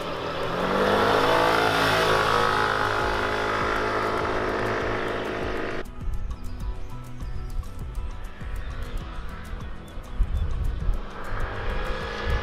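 QJ MTX 125 hybrid scooter with a 7 hp engine and hybrid assist, pulling away under acceleration: a loud, rising engine drone that drops off abruptly midway, leaving rougher, fainter running and road noise.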